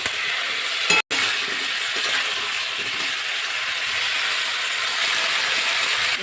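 Vegetables with garden chillies, salt and turmeric sizzle and fry steadily in a pan, a continuous close hiss broken by one brief pause near the start.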